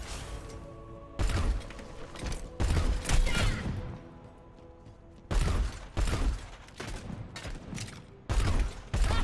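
Frag cannon in a video game fires a string of heavy booming blasts, each a broadband burst, spaced unevenly over a steady mechanical game hum.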